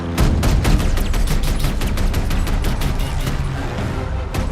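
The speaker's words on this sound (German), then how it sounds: "Peng Peng Peng Peng! Mit der 1911" Rapid, repeated M1911 pistol shots in Call of Duty: Vanguard, loud sharp cracks fired in a fast, continuous string with little pause between them.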